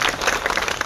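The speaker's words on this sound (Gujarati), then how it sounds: "ડાયાભાઈ ગજેરા, તાળીઓથી વધાવો." An audience claps together in a dense, steady round of applause welcoming a speaker at a farmers' gathering at the Junagadh Collector office, with no voices rising above it.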